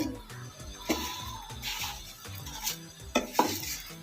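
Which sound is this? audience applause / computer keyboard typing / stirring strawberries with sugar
stirring strawberries with sugar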